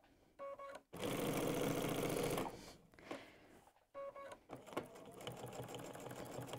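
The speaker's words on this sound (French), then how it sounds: "je continue jusqu'à ce que je croise cette couture-là. Je vais coudre sur dans la couture." A domestic sewing machine stitches a quilt seam in quick bursts, a loud steady whirring run followed by shorter stop-start stitching passes with brief pauses between.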